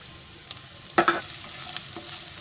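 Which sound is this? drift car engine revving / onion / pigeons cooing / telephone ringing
onion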